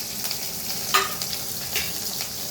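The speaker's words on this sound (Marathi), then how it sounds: "2-3 कढीपत्त्याची पाने टाकते." A few curry leaves dropped into reused hot frying oil, a constant sizzle with a sharp crackling burst near the start and smaller pops after.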